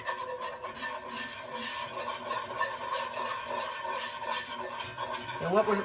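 A whisk stirs butter and flour together into a roux, giving a steady, continuous scraping and swishing that runs close and fairly loud throughout, with no voices.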